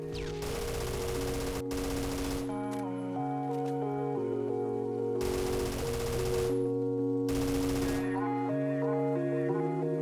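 Carbine gunfire in Phantom Forces, a 900-round-per-minute weapon: several sustained full-auto bursts of rapid, loud shots alternating with pauses, under prominent background music and narration.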